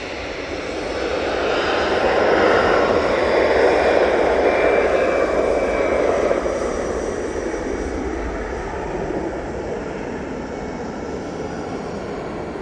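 An EasyJet airliner rolls for takeoff at Manchester Airport, its jet engines roaring loud and close, peaking early and then settling into a sustained, slowly fading rumble.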